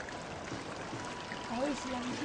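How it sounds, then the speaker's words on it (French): River water rushes in a steady, continuous stream in Laos. It is fairly close and even throughout, and a faint voice briefly sounds over it near the end. "Ah oui, c'est la rivière."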